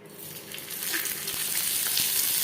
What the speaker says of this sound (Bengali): ফ্রাই করবার জন্য দিয়ে দিয়েছি দু চামচ সরষার তেল